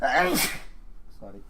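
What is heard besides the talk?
sneeze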